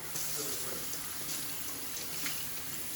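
A tap runs steadily as produce is rinsed under it, giving a continuous, moderately faint hiss and splash with no break.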